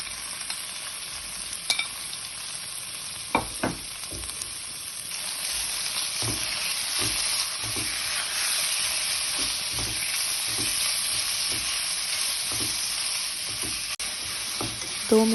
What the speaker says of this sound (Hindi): दो मिनट के लिए चिकन को भूनेंगे।